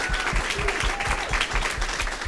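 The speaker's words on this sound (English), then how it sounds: "let's give them a round of applause again" A crowd claps enthusiastically, a dense wash of applause with a faint whistle or cheer mixed in, fairly close and loud.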